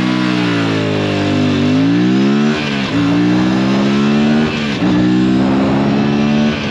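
An Aprilia RS 457 sport motorcycle, a sub-35 kW machine, accelerates hard with a loud, close engine whine climbing steadily through the gears, briefly dipping at each of two upshifts before pulling again.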